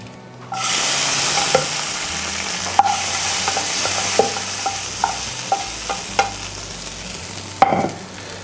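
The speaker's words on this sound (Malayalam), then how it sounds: "നമുക്ക് കടലക്കറിയിലോട്ട് ഈ താളിപ്പങ്ങ് ചേർത്ത് കൊടുക്കാം." A tempering of dried chillies and curry leaves poured into chickpea curry gives a loud sudden sizzle, followed by steady frying hiss and a series of sharp spoon clinks and scrapes against the pan.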